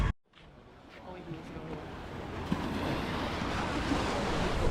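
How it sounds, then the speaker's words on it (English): Waves washing onto a beach in Split, Croatia, a steady broadband surf wash that builds gradually and stays loud and continuous, with wind rumble on the microphone and faint voices in the background. "And we've made it to the beach."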